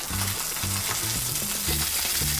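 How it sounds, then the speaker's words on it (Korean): Fish dropped skin-side down into oil in a hot pan on medium heat, sizzling loudly and steadily with a crackling spit throughout, close up and with no talking. "딱 넣으면 이렇게 지글지글 소리가 나야 해요. 튀겨지는 소리가."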